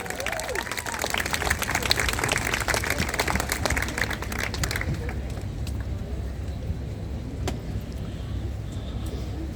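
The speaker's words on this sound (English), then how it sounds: "give him a big round of applause" Applause breaks out at an outdoor Palestine protest rally in Auckland City as a speaker is welcomed forward, dense clapping for about five seconds before thinning into open-air crowd noise and traffic.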